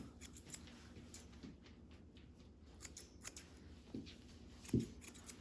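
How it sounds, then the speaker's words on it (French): Scissors make small snipping cuts through the fur of a Doodle dog during grooming, a series of soft, close, irregular clicks alone with no talk. "Donc ici, on fait des petits coups de ciseaux."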